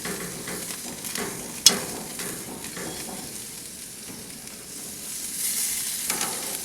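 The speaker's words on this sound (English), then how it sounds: "Make sure those shrimp are really kind of flat on the grill here." Shrimp sizzle and crackle steadily on a hot grill for a pizza, lying flat against the grates, with a soft continuous hiss and an occasional sharp pop or tap.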